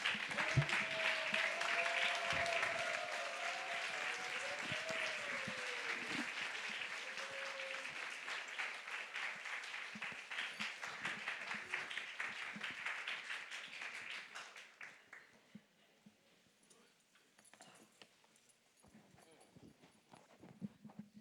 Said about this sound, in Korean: 큰 박수로 일어서서 환영하도록 하겠습니다